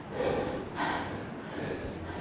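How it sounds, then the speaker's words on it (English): Heavy, deep breathing after a climb outdoors in Tasmania, a few close, slow breaths with audible inhales and exhales and no talking. "This is just deep breathing."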